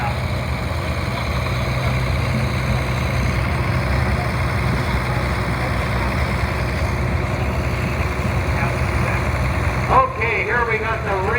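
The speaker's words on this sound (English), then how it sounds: "1955 John Deere 60, owned by Sandy and Joe Weidel" A 1955 John Deere 60 tractor engine runs in an outdoor tractor parade, a steady, low, chugging idle that continues for its whole length, with faint voices in the background.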